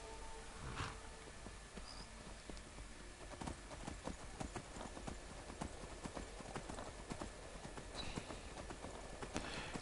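A horse galloping in the video game Skyrim, with rapid, continuous hoofbeats drumming close and steady over a soft ambient background.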